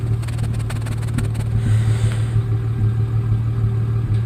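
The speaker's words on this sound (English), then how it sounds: "So it's idling just like it should." A Nissan 3.3 engine idles steadily, heard close at the exhaust pipe as a smooth, even low hum without misfire puffs, with a faint ticking early on.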